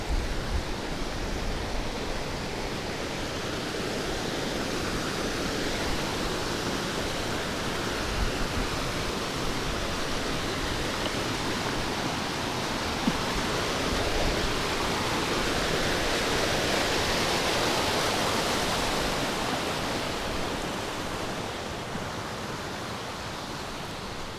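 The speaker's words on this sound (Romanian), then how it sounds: "Destul de mare pârâul ăsta și foarte tulbure." A large, very muddy mountain stream in Kazbegi, in the Caucasus, rushes past a small footbridge near the Alpine Hut: a loud, continuous, dense roar of water close by, steady throughout with no talking.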